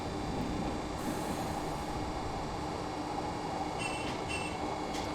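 A Glasgow Subway train running through a tunnel in Train Simulator Classic, a steady rumbling roar of wheels and motors with constant broadband rushing noise and a few faint high tones near the end.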